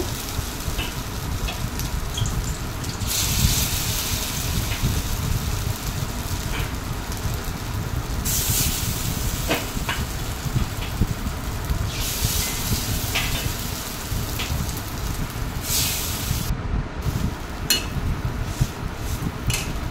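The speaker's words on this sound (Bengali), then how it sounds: "বড়াগুলো ভালো করে কড়া করে ভেজে নিয়েছি" Small spoonfuls of palta leaf fritter batter fry in hot oil, giving a continuous close crackling sizzle with occasional faint clinks of utensils and no talk.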